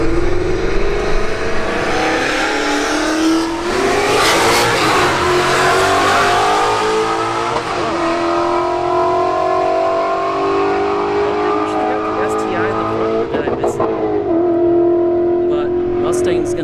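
Ford S197 Mustang and a base-model Subaru WRX drag racing at a street-heat event, engines revving hard and rising in pitch through the gears, loud and close throughout, with a commentator talking over the run.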